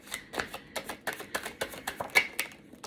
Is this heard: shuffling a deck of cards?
yes